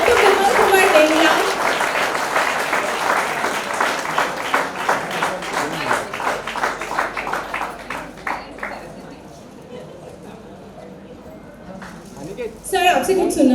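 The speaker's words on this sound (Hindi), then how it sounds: "Huge round of applause. तालियां हो जाए for Dr. Vimal Kumar Dengla" An audience at a film screening event claps for an honoured guest, a burst of applause that thins out and fades midway, with a voice speaking over parts of it before a brief swell at the end.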